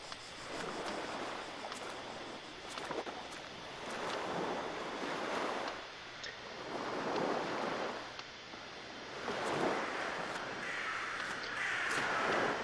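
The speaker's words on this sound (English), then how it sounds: "all I'm hearing over here is crows" Crows caw now and then in the video game The Last Door over a steady wash of surf and wind, the calls fairly distant and scattered across the scene.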